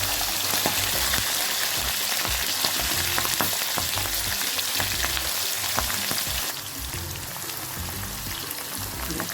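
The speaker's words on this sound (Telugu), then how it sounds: "ఒక పది పచ్చిమిర్చి తీసుకున్నానండి ఇవేం పెద్ద కారం లేవు అది వేసుకొని బాగా దూరగా వేగాలి" About ten green chillies fry in hot oil for tamarind pulihora, a dense continuous close sizzle with small spits and pops that drops slightly in level partway through, alone without talk.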